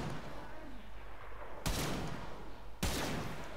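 Two sharp, loud gunshots from a weapon in the video game Warframe, spaced about a second apart, each a sudden broadband crack with a short tail over a steady background hum.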